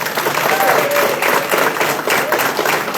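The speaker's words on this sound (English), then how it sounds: "Again, give them a round of applause." Audience applause for the candidates at a Democratic 6th District congressional candidate forum in Hancock County, a steady wash of clapping filling the room for about three seconds with no clear speech over it.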